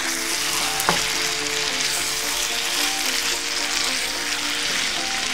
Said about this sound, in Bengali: গরুর মাংসটা দিয়ে আমি একটু নেড়ে চেড়ে দিচ্ছি